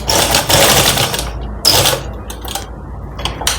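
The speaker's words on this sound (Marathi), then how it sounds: "आणि जिथे इलॅस्टिक येईल ना तिथे आपल्याला थांबवायचे आणि टर्न करून घ्यायचे आणि इलॅस्टिकवर शिलाई घ्यायची." A sewing machine stitches over elastic on a ready-to-wear belt saree, loud close mechanical whirring in short runs with brief stops and ticks of the mechanism between them.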